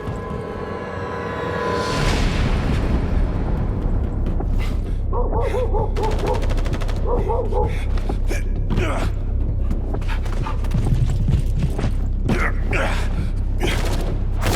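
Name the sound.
gunfire in a video game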